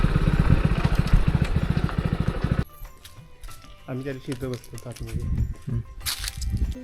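A Hero Splendor motorcycle engine idles loudly with a steady, rapid putter, then cuts off abruptly, leaving a quiet scene with people talking nearby.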